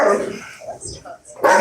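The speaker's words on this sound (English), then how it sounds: "The dog weighs 95 pounds." A large 95-pound dog gives short barks and whimpers close by during a brief, busy struggle, mixed in with a person's voice.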